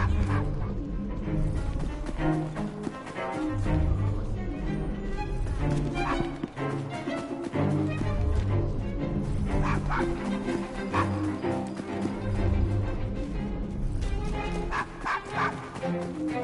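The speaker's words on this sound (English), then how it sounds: "Nice doggy." Dog barking in Assassin's Creed Syndicate, set in a Victorian London pub district, repeated barks and yips mixed into busy, dense game ambience and music.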